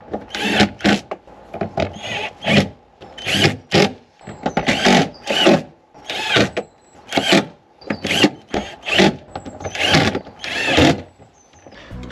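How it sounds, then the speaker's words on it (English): A power drill drives screws back into a Range Rover Evoque door panel, coming in a dozen short whirring bursts with brief pauses between them, loud and close. "Put all the screws back on."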